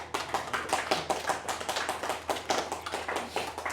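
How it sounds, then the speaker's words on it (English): An audience at a political speech claps in agreement, a fairly quiet patter of hands with distinct separate claps in an uneven rhythm, no talking over it. "Clap if you agree."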